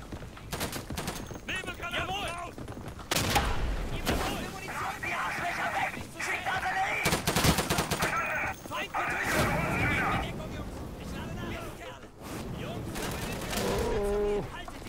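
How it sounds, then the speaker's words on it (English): Many players firing from an elevated position in the World War II shooter Day of Infamy: dense overlapping gunshots and bursts of automatic fire, some near and loud, some more distant, with someone talking over the battle. "A lot of guys firing up here too, as it is an elevated position."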